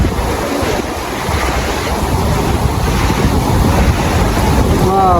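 Steady rushing river water at Sada Pathor, Sylhet, fills the scene, a continuous turbulent roar with wind buffeting the microphone, loud and close throughout.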